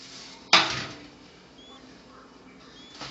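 Pizza dough dropped onto a lightly floured metal pan makes a single sharp slap, followed by a short, fading rustle in an otherwise quiet kitchen.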